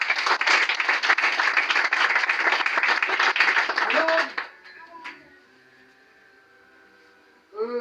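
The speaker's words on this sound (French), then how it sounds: "Acclamons pour le Saint-Esprit." A church congregation claps and cheers together in praise of the Holy Spirit, dense sustained applause for about four seconds that then drops away abruptly to a quiet room with faint murmurs.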